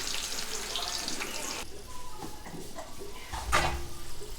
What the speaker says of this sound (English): We have to fry onion